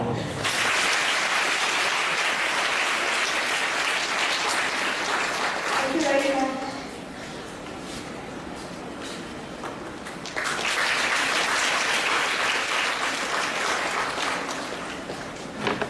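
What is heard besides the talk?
audience clapping for a guest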